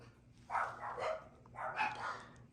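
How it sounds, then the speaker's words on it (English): A dog barks twice at a distance in a house with a ceiling fan. The two short, muffled bursts are about a second apart over a faint steady hum. "Excuse the dog barking."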